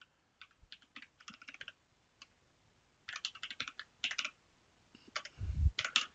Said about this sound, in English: Okay, so again, we can just type this in.